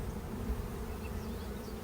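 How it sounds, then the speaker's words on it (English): Honey bees buzz in a dense, steady drone at a busy hive entrance, many wingbeats close by with no voices. "there are definitely a lot more bees coming than going now"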